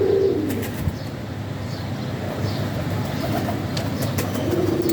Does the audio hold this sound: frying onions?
no